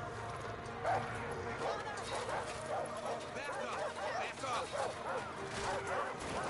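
Several dogs in the game Far Cry 5 bark steadily and overlap throughout, moderately loud behind a person talking.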